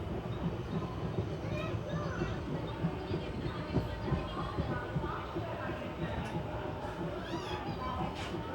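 The Koyna Express passenger train slowing into Thane station in the morning, a steady low rumble of wheels and carriages with faint squeals and clatter, heard from on board amid background voices on the platform.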